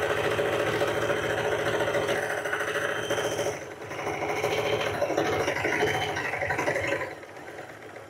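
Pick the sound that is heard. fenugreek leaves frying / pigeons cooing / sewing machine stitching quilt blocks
sewing machine stitching quilt blocks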